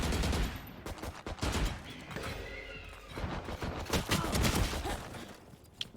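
Rapid bursts of pistol gunfire in the tactical shooter Valorant during a collegiate esports match, cracking loudly in dense clusters over a busy backdrop of game effects and crowd-like noise, with a sharp final shot near the end.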